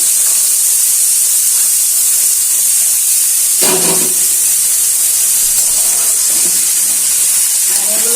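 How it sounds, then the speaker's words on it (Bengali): Pieces of ash gourd are dropped into hot fried spices, giving a steady, fairly loud hiss and sizzle with a brief clatter of the pieces landing partway through. "এখন জালি কুমড়োগুলো দিয়ে দিচ্ছি"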